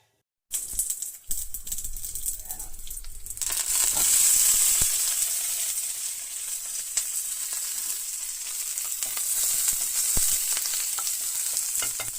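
Green chillies and chana dal fry in hot oil for an old-style tiffin chutney: after a quiet start, a steady, loud sizzle takes hold and carries on throughout, broken by occasional stirring clicks from a spoon.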